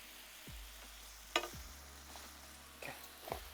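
Pork and onions fry in a pan at a cafe kitchen, a faint, soft sizzle punctuated by a few sharp clanks and scrapes of stirring, with a low hum underneath and no talking.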